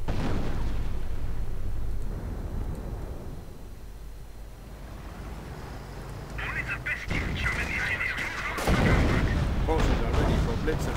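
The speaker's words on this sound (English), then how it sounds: "Artillery on the Hotchkiss and Stu 42" Artillery fire in a World War II strategy game, with shells hitting a Hotchkiss and a StuG 42 and booming in repeated deep blasts amid battle noise, louder toward the end.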